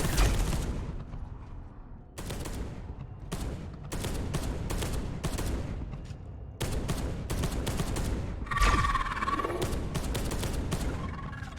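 Rapid bursts of heavy gunfire in the Warhammer 40K video game Space Hulk: Deathwing, loud and close, in repeated volleys with brief gaps, continuing throughout without talk.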